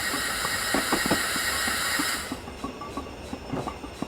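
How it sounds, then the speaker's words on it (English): A locomotive in Train Simulator 2020 slows down, steady rolling rumble and hiss giving way to fainter wheel clicks and squeals as speed drops, with no talk. "The train is definitely slowing"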